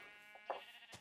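A short, quiet bleat from a sheep in the Minecraft video game, faint and slightly nasal, with a couple of brief soft game sounds around it.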